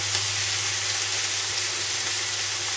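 Chopped onion sizzles steadily in a pan over lowered heat while cooking chicken tikka masala, a dense, even crackle with no breaks and no voices.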